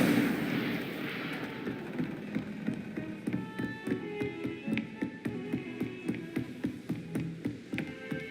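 Incendio fire spell cast in Hogwarts Legacy, a dense burst of roaring flame and crackle followed by a steady run of rhythmic, evenly spaced impacts that continue to the end.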